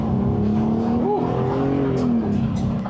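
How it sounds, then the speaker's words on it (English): The 6-cylinder engine of a Coachmen Pixel RV revs as it pulls away, a steady, droning engine tone climbing slightly under constant road noise, with a faint voice in the background. "You get that nice Italian revving over there."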